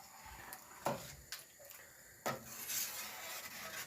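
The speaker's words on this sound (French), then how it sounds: "Je prends ma superbe louche et je vais mélanger" A ladle stirs Moroccan harira soup in a pot, making a few soft scraping and sloshing strokes with brief pauses between them. The sound is close and fairly quiet, and no one speaks.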